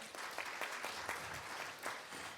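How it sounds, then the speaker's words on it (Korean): Applause from a conference audience following a presentation at an East Asian welfare cooperation forum, a moderate, slightly distant patter of many hands with individual claps standing out as it carries on. "다시 한번 큰 박수 부탁드립니다"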